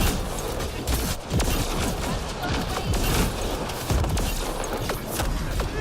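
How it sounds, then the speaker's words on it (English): The multi-grenade launcher in the Mass Effect: Andromeda video game fires a dense barrage of loud blasts and explosions, one after another, in a busy, noisy fight. "blast anything in the general vicinity with this multi-grenade launcher"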